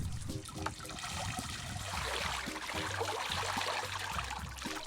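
Liquid draining through an EnviroChannel iG drainage channel grating, a steady soft trickling and gurgling flow heard close and unbroken.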